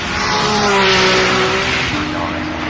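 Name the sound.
Porsche GT2 RS sports car driving past at Goodwood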